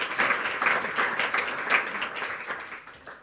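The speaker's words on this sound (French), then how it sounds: "Donc on peut aussi l'applaudir." An audience at a faculty course-opening ceremony applauds a thesis award, giving a steady, dense round of clapping that holds for several seconds before tapering off.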